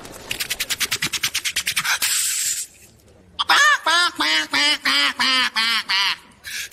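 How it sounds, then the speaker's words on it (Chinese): A flock of ducks quacking nearby, first a rapid train of short regular calls, then after a brief pause a run of louder, longer nasal quacks in steady rhythm. "这又碰到了一群鸭子"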